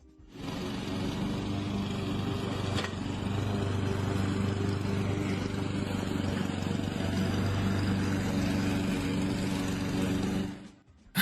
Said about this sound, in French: quelqu'un de mon niveau a trouvé un moyen de mettre votre tondeuse à gazon sans fil assisté en mode automatique